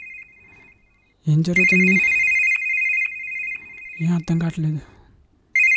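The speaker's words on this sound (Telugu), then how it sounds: "నా ఫోన్ నుంచి నాకు కాల్ వస్తుంది." A mobile phone rings with an incoming call. The steady electronic ringtone sounds loud and close through most of the moment, and a person speaks over it twice.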